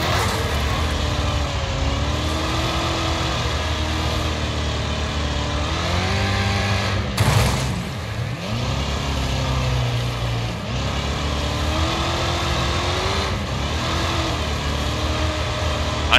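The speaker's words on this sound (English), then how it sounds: "this is the A-class limo, so it's actually a good time to drive" A big A-class limousine races in the Wreckfest video game on a sandpit track, its engine revving up and down continuously and loudly, rising and falling in pitch as it accelerates and shifts, with a brief impact or scrape midway.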